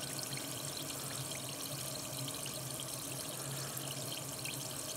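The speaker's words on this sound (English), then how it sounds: "There, it's bubbling." A rock soaking in water with added muriatic acid (HCl) fizzes with a steady, faint hiss of fine bubbling, continuous and even throughout, with no voices.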